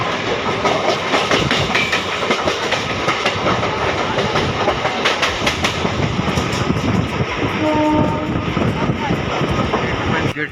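Train halted at the Habra level crossing, whose gate was lowered late, with lorries and cars still crossing the road; a steady loud rumble of rail and traffic noise fills the scene, with a brief tonal horn-like note near the end.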